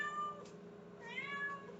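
A house cat lets out a soft, drawn-out meow, then a second plaintive meow a moment later, fairly quiet and close against a still room.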